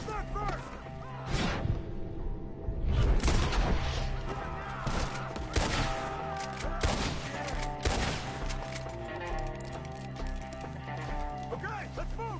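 Gunfire in the Red Dead Redemption 2 video game, a few sharp shots and a heavier burst amid game sounds and a steady music bed, with voices talking over the action.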